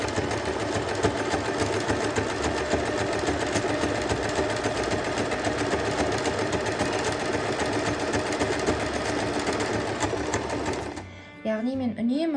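An electric sewing machine runs steadily for about eleven seconds, stitching a zigzag seam along a Kazakh ornament appliqué, then stops abruptly; a voice talks over the continuous motor hum.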